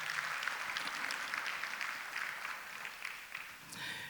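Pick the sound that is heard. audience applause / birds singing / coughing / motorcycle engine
audience applause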